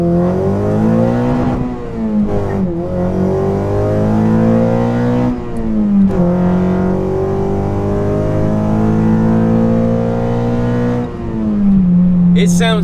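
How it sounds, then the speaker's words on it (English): A 9th-generation Honda Civic with a carbon fiber intake revs hard, its engine and induction roar rising and falling in loud, close sweeps, with brief dips between pulls. "The induction noise that this intake makes is sick"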